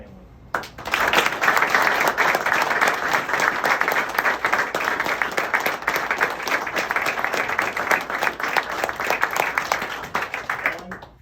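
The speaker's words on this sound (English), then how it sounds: "please join me in a round of applause for Colonel Kellogg and his family" A crowd at a retirement ceremony gives a long, sustained round of applause for a colonel and his family, dense, loud and even clapping that starts abruptly and slowly thins out near the end.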